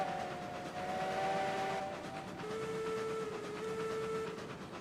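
A locomotive in the train game Railroads Online rumbles along the track while long whistle-like tones sound over it, steady and moderately faint, with no voices.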